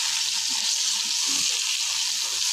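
Onions frying in hot oil in a pan give a steady, close sizzle with a dense crackling hiss that holds evenly throughout.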